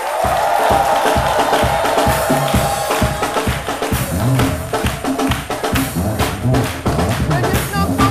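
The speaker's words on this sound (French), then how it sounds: "que je vous demande d'applaudir" An audience claps and cheers at a televised military music company show, the applause mixed with rhythmic band drumming and crowd noise, loud and continuous throughout.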